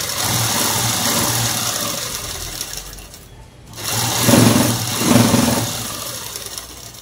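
A sewing machine stitches the lining of a prince-cut model dress with a steady, close motor whir that dips briefly midway, then resumes in two louder bursts. No one speaks.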